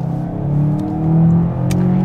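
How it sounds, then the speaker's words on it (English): A 2021 VW Arteon Shooting Brake with a 1.4-litre engine accelerates, its steady droning engine note heard from inside the cabin, swelling and rising smoothly in pitch. "The acceleration is effortless."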